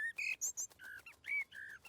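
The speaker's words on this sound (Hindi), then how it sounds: "वो चिड़िया हमें थैंक्स बोल रही है।" A cartoon bird in a children's animated show chirps a quick series of bright, whistled tweets and short trills, fairly faint, with no talking over them.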